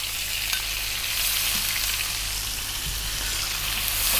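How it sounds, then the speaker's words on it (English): Curry leaves and onion frying in hot oil for a Kerala chicken roast, a loud, dense, continuous sizzle close up with no talking. "make sure that you cook your onions till they brown slightly"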